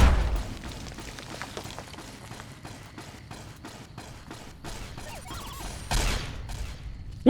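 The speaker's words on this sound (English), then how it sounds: "That's a bomb." A bomb explodes in the Mojave wasteland of Fallout: New Vegas as a sharp, loud broadband blast near the end, following a run of rapid, gunfire-like bursts and crackles.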